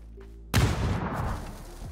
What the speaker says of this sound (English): Oh my god, it's an MG.